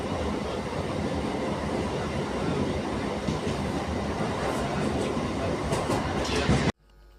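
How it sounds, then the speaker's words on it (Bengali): A passenger train runs toward Mirzachowki station near Sahibganj, giving a loud, continuous rumble of wheels and carriages from on board, steady throughout before cutting off abruptly at the end. "একদম 7:10 ডট টাইমে ট্রেন ছেড়েছে"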